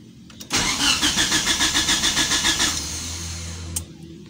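A Mitsubishi Lancer GTI engine cranks in a steady rhythmic churn of about a dozen even turns without catching, loud and close, then the starter cuts out and a low hum remains.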